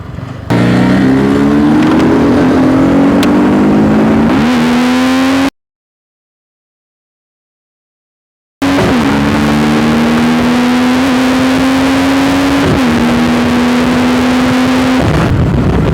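A Yamaha R15 V3 motorcycle fitted with a K&N air filter revs hard with a steady high-rpm drone and rising pitch, cut by a few seconds of silence before the loud revving resumes.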